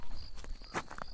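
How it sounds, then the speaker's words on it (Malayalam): A few close footsteps sound on a road at night, short separate scuffs in quick succession within a quiet, dark setting. "അയാളുടെ ചുവടുകളുടെ ശബ്ദം അന്തരീക്ഷത്തിൽ തരംഗങ്ങളായി."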